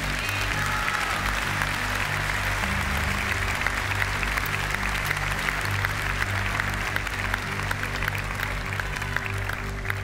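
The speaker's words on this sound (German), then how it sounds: "Nochmal einen Applaus zur Aufmunterung." A large audience at a German web video award show applauds continuously for ten seconds, a dense wash of clapping over a faint steady background hum.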